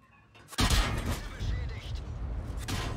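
Tank guns exchange fire in a World War II style tank video game, with a sudden loud blast followed by a rumbling echo and a second, fainter report near the end.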